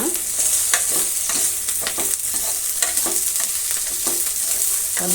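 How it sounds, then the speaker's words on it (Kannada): Small potato pieces fry in a pan for a soy gravy, a steady close sizzle broken by repeated scraping and stirring strokes, with no talking. "ಎರಡು ನಿಮಿಷ ಫ್ರೈ ಆಗಲಿ ಯಾಕಂದರೆ ಹಾಲಾಗಡ್ಡೆ ಒಂದು ಸ್ವಲ್ಪ ಬೇಯಬೇಕಾಗುತ್ತೆ"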